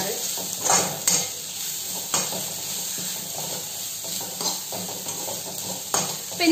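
Onions sautéing in a pan for Kerala-style beef roast make a continuous sizzle close up, broken by recurring spoon scrapes and metal clinks as they are stirred.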